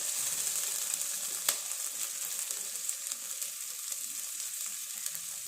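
Two kinds of lentils fry in oil for a potato curry, producing a quiet, even sizzling hiss with a single brief click from stirring partway through.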